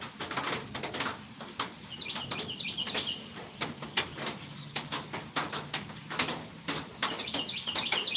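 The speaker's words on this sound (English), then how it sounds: "they are coming out and chirping" Small birds chirp and tweet outdoors in scattered bursts, mixed with frequent sharp ticks and clicks over a soft steady background, with no one talking.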